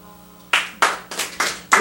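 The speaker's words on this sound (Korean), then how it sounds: "박수 한번" A church congregation claps in a quick, steady rhythm, with about six sharp, loud claps following a brief quiet moment.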